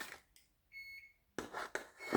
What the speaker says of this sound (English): That's the oven that you're hearing beep.